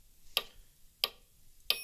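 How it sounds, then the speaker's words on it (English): Three sharp metronome ticks at an even 90 beats per minute, crisp and close against a quiet background. "You'll be able to find a free metronome."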